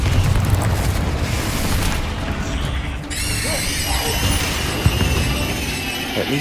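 A Confringo blasting spell explodes in Hogwarts Legacy, loud and continuous combat noise with deep booms and crashing rumble, shifting to a bright ringing magical tone partway through, all dense with no pauses.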